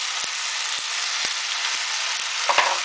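A small hot pepper sizzles in hot fat in a pan for Hungarian lecsó. The hiss is steady and loud, broken by several sharp ticks and pops, and a small clatter comes near the end.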